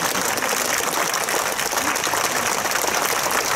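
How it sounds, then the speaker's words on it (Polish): A concert audience claps continuously, a dense, steady roar of many hands at even loudness throughout, with no distinct voices. "To są absolutnie zasłużone brawa do Państwa."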